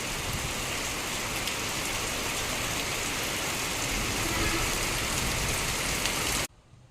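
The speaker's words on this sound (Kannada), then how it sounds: "ಆ ಥರ ಮಳೆ ಬರ್ತದೆ ತುಂಬ ವರ್ಷಗಳ ನಂತರ ಈ ಥರ ಮಳೆ ಸುರಿಯುತ್ತಿರುವುದು" Heavy rain pours steadily as a dense, continuous roar of drops, close and loud, then cuts off abruptly near the end.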